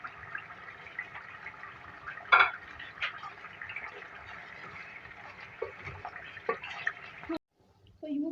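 A spoon scrapes and clinks in a pot as yogurt and onion paste are stirred into biryani masala, steady soft stirring with a few sharper metal knocks, close up under quiet kitchen noise.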